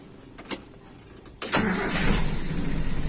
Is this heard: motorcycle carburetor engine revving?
yes